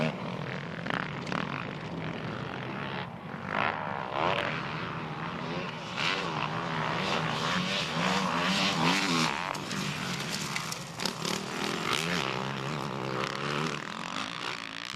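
A 2009 Yamaha YZ450F dirt bike engine revs and bogs while riding a motocross track, with loud, rapidly shifting throttle bursts and gear changes. The engine runs close throughout with no speech.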